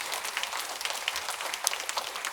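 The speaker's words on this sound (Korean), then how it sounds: "우리 격려의 박수 한번 더 해주시면 좋겠습니다." A church congregation at a Sunday morning service claps in encouragement for the Zion choir, a fairly faint, scattered patter of hands spread through the sanctuary with no voices over it.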